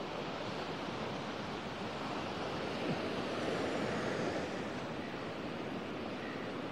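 Waves break steadily on a beach along the Limestone Coast of South Australia, a continuous moderate surf wash with no talk, the rush rising and falling slightly throughout.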